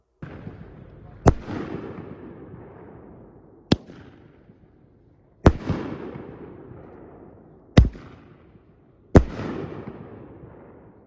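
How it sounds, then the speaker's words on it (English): Willow fireworks burst five times at uneven intervals, each sharp bang followed by a long, fading crackle and hiss of falling trails, heard from a moderate distance. "Fireballs drop down, leaving a long-lasting trail behind them looking like a willow tree"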